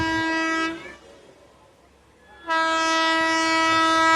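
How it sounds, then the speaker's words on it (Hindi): A Secunderabad–Hazrat Nizamuddin Duronto Express sounds two long, loud horn blasts separated by a short gap of low rumble as it overtakes a stationary train held in a loop at a roadside station. "Secunderabad Hazrat Nizamuddin Duronto express overtaking Banaras Hubli special train eight Rachin road"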